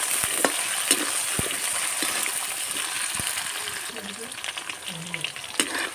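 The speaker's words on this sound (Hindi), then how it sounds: "इसमें डाल देती हूँ आलू। और आलू को हम 2 मिनट के लिए भून लेंगे।" Potatoes sizzling and frying in hot oil with crackled chili and garlic in a village kitchen, a steady loud hiss with occasional stirring clinks, close up, a voice faintly present.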